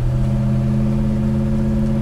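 A 1965 Chevy Malibu SS with a 502 V8 making 500 horsepower drives along, its steady loud engine drone and deep low rumble holding continuously from inside the car.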